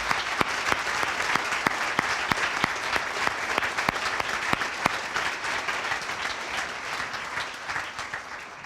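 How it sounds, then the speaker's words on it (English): A police awards ceremony audience claps together in a steady burst of applause that gradually softens toward the end. "So just one more round of applause for these 3 guys."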